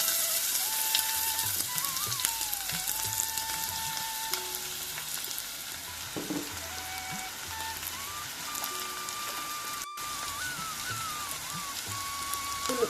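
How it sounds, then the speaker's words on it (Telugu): Onions and green chillies fry in hot oil with a steady, continuous sizzle and crackle, close and fairly loud throughout, with faint tonal whines and occasional clatters over it. "ఇప్పుడు ఉల్లిపాయలు పచ్చిమిరపకాయలు వేసుకుందాము."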